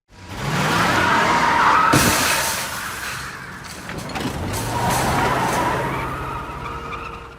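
A car pulls away in a robbery comedy scene, loud and close, with a sustained engine roar, tires screeching and a sharp knock partway through, then the sound eases off.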